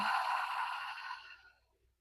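A single long, soft exhalation out through the mouth during a guided meditation, close and breathy, fading out over about two seconds.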